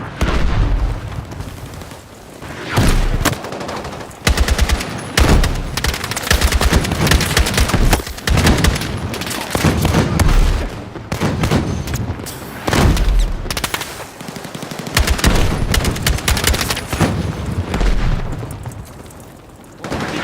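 Battlefield 6 firefight with dense, loud bursts of automatic gunfire, sharp single shots and heavy booms repeating throughout, barely pausing, with no talk over it.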